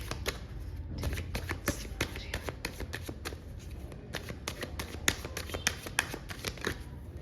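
Tarot cards shuffled and drawn from a deck, a steady run of quick crisp riffling snaps and flicks lasting throughout, close and fairly loud with no talking.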